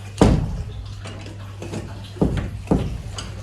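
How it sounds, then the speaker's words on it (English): A door at an outdoor koi pond enclosure swings shut with several knocking clunks and rattles of the latch, spaced over a few seconds, set against a steady low hum. "So let's close this door."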